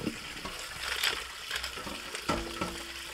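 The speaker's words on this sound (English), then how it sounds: "Let the water go in there and then just spin them around while they're in there." Cold water runs and splashes over soapy Lego parts while they are spun in a salad spinner, giving a steady rushing wash broken by clattering knocks of plastic pieces.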